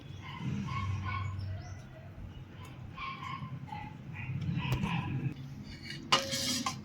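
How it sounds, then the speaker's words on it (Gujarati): Gram flour batter is whisked with buttermilk in a bowl for Gujarati kadhi, making irregular soft scraping and light clinking strokes. A sharper metallic clatter comes near the end. "બેટરને આપણે એકદમ સરસ આ રીતે ડોઈ લેશું એક પણ આપણે આમ ગાંઠા ન રહે એવી રીતે"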